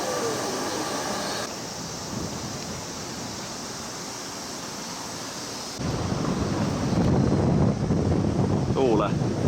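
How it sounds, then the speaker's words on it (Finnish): Wind gusts across castle grounds near the shore in Japan, a steady broadband roar with microphone buffeting that grows louder and rougher over the last few seconds. "Tuulee."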